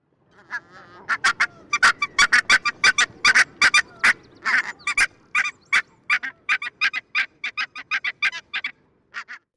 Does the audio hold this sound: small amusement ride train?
no